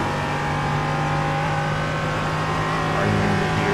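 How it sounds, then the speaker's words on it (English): A race car in the sim game iRacing drones loudly and continuously, its engine holding a steady high tone that swells slightly near the end. "All you need to hear is this beautiful car."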